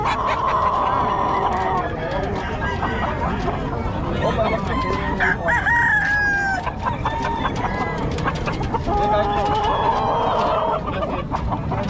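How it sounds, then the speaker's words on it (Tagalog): Several roosters crow repeatedly among constant clucking from many chickens at the Bocaue market, a loud, dense chorus with people talking underneath throughout. "Ang daming manok na natin ngayon"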